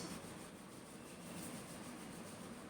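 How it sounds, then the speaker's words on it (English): Palms rubbed steadily together during a yoga and pranayama session, a continuous soft, close friction hiss lasting the whole stretch with no talk over it. "Slowly we rub our palms, generate heat"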